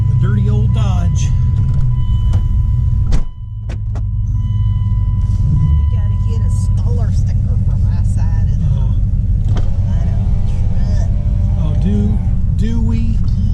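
A dirty old 1999 Dodge pickup truck drives along with a steady, loud low engine rumble that briefly dips partway through, while people talk inside the cab.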